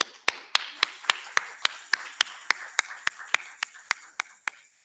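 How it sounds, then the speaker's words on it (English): At an exporter awards ceremony in Lesotho, a single pair of hands claps in a slow, even rhythm, sharp and close, about seventeen claps against a faint room murmur before stopping. "Please give him a round of applause."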